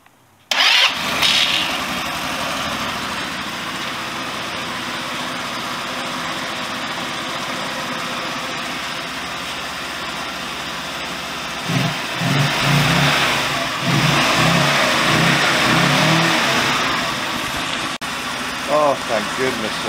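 A Chinese GY6 scooter engine, just rewired for a naked bike setup, catches and starts, then runs at a steady loud idle before several rising revs toward the end, with no talking.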